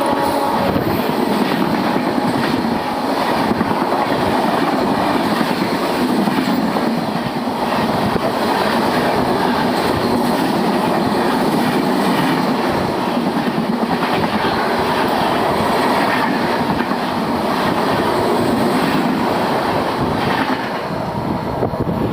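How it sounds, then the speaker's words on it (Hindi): The Ratnagiri superfast express rolling along as another train passes alongside, a loud, steady rumble and rattle of wheels on rails with wind buffeting, continuous throughout. "पता नहीं कौन सी एक ट्रेन आके हमें ओवरटेक कर जाती है"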